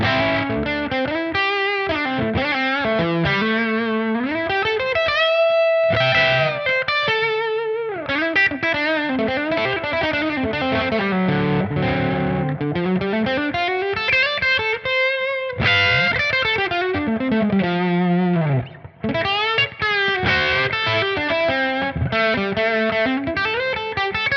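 Overdriven electric guitar through a Dumble-style amp model on a TONEX playing chords and melodic runs, thick and saturated with steady loudness, no voices.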